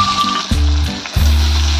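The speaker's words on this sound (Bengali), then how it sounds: "এই একটু ভেজে নেব।" Taro stolons frying in a pan, a loud, close sizzle broken by short bursts as the contents are stirred or added, with no talking.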